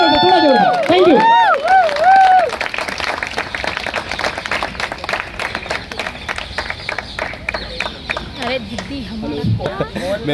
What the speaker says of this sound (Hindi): please give a huge round of applause Ashique